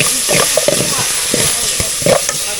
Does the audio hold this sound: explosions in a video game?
no